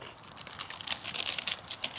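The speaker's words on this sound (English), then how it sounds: "It's a good crunch too." Crunching on a small, buttery bread snack topped with sugar, close and crisp bites with crackly bursts that grow denser partway through, heard alone.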